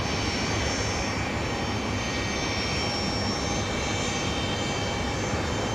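Solomon Airlines Airbus A320 arriving on runway 01 at Brisbane Airport at night, a steady broad roar of jet engines with a faint high whine, heard from a distance without a break.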